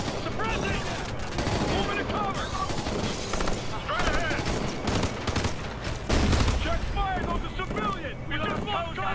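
Enemy gunfire in Ghost Recon Future Soldier co-op play, dense rattling bursts of automatic fire and shots throughout, heard under players talking.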